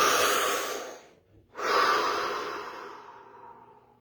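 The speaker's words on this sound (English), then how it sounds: "Deep breath." A person breathes deeply during a guided meditation session: a long, close exhale, a brief pause, then a full inhale and slow release, soft and unhurried with no talking.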